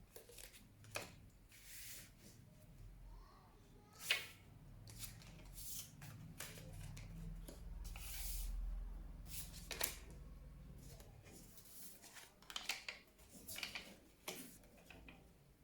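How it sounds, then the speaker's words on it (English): Tarot cards handled and shuffled by hand, giving soft papery riffles, slides and taps in scattered bursts, close and fairly quiet, with low background rumble and no talk. "Let me adjust my cards."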